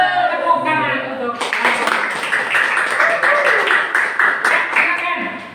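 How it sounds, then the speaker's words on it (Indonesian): Classroom applause: a voice speaks briefly, then a group of students breaks into steady, fairly loud clapping that continues to the end. "Tepuk tangan untuk."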